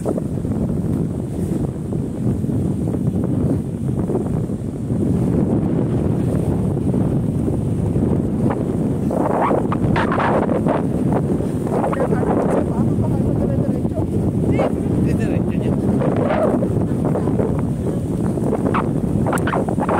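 Strong wind roars steadily across the microphone on the Liwa desert dunes, a dense rushing noise with muffled voices faintly underneath.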